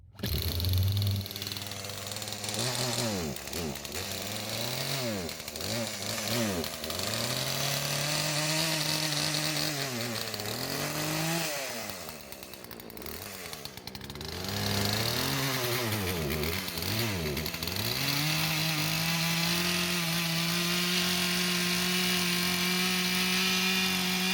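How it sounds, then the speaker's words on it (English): A chainsaw engine runs loud and close for a long stretch, cutting out a boat's wooden transom, its pitch rising and falling repeatedly as it bites into wood, briefly easing midway. "So I think the chainsaw is gonna work"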